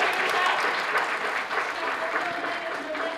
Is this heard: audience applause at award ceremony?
yes